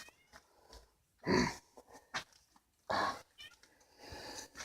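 A cat lets out two loud, drawn-out meows with short pauses between them, and soft rustling and breathing sounds nearby.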